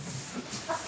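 Chickens cluck briefly at moderate distance, a short burst of soft hen calls with no talk.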